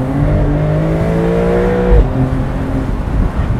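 A Porsche 911 992 Cabriolet's turbocharged flat-six revving loudly and close, its pitch climbing steadily, dropping briefly at a shift, then rising again with turbo whir under the exhaust.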